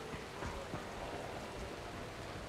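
Steady rainfall in the zombie survival game Dying Light, an even dense hiss of drops on surfaces running throughout with no voices over it.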